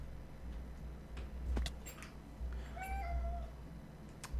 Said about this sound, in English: My cat's trying to make his escape out of the room.